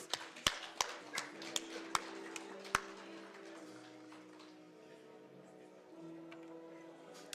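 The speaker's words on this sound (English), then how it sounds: "clap hands" A handful of sharp, sparse hand claps ring out at an indoor festival gathering, irregular and close, then fade into a quiet room with a low hum.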